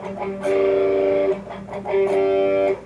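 Distorted electric guitar playing a riff, two long sustained power chords each set up by short chugging picked notes, loud and close.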